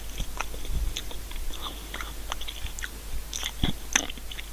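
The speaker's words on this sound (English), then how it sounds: "And the sound that the cracker made as it broke" Close, crisp crunching as a Jacob's cream cracker topped with cheddar is bitten and chewed, with sharp brittle snaps breaking through a steady stream of softer crackly mastication, heard alone.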